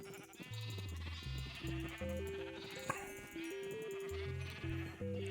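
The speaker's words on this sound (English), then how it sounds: "I was trying to keep track of sheep." Sheep bleating in the game Minecraft, heard over steady music as a few short bleats, moderately loud.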